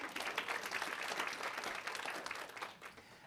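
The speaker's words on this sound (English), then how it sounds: "give yourselves a round of applause" Conference audience at an HR event gives a brief round of applause, a quiet, dense patter of many hands clapping at a steady level with no voices.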